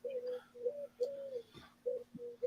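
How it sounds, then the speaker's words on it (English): Pigeons or doves coo softly near a porch in a series of short, repeated low calls with brief pauses between them, and a faint thump is heard in the background. "I can hear pigeons, yeah. It's a pigeon. It's doves."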